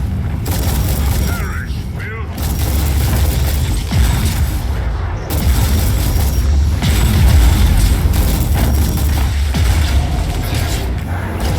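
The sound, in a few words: artillery strike explosions in Warhammer 40K Inquisitor video game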